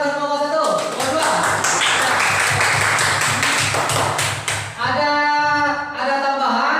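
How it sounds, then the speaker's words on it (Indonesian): A classroom group claps for presenting students, a dense burst of hand claps lasting several seconds between spoken voices before and after. "tepuk tangan untuk kelompok 1, kelompok 2"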